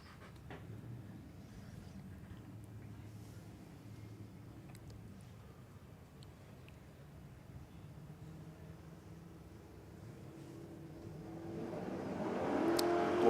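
Drag race launch at an Australian raceway between a Camaro and an XD Falcon, engine roar building from a steady distant rumble to a loud, rising surge near the end.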